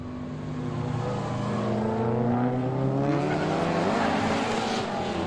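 A Corvette drift car's engine roars at a street drift race, its pitch climbing and falling through sustained revs, loud and fairly close with a faint tire-squeal edge.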